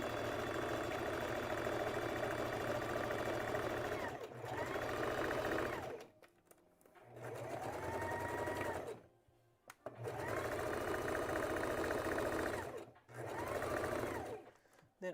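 A home sewing machine stitches the hem of a Valentine's Day dress in several long, even runs of rapid needle clatter, each broken by short pauses, close and fairly loud.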